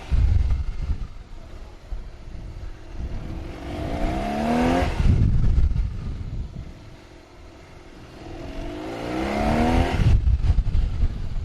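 A police motorcycle makes repeated fast passes during competition warm-up drills, the engine rising in pitch as it accelerates and then fading, with wind buffeting and a steady roar between the climbs.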